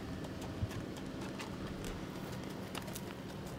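Horse hooves clip-clop steadily on a farm hayride in Mentone, California, a soft rhythmic clatter set in a busy, noisy outdoor background.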